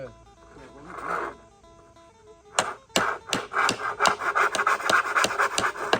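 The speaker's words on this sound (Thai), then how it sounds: "ตัดเอาพอดีมา แป๊บเดียวเลื่อยตัวนี้ฮะ" After a quiet stretch with a faint tone, a hand saw rasps through wood in quick, rhythmic back-and-forth strokes, close and fairly loud.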